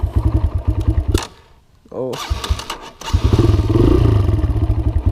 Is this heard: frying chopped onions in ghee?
no